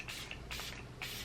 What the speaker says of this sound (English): just lightly dampening the brush with some setting spray